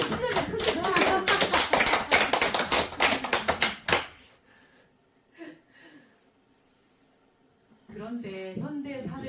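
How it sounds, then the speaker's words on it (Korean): A lecture-hall audience at a Buddhist dharma talk bursts into loud, dense applause for about four seconds. The clapping then dies away to near silence, and a voice begins speaking toward the end. "박수 좀 치려면 크게 치세요."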